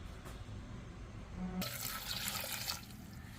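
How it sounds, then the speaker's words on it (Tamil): After a quiet moment, water starts pouring in a steady splashing stream into a tomato chutney being cooked, running to the end. "தண்ணி ஒரு ரெண்டு கிளாஸ் ஊற்றணும்"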